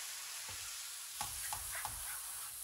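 A cream mixture for salmon Wellington simmers quietly in a pan, a soft constant sizzling hiss with a few faint clicks of a utensil, with no talking.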